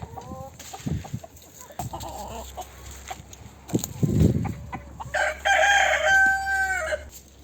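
A Sultan rooster crows loudly and close by, a long harmonic call near the end, with clucking and other fowl sounds earlier.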